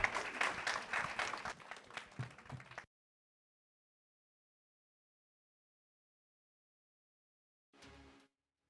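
An audience at a national secondary school science quiz final gives a round of applause, a loud burst of clapping that stops abruptly after a few seconds, followed by silence and then a brief sound.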